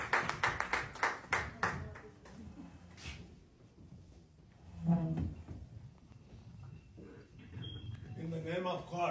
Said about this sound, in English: Please give him big rounds of applause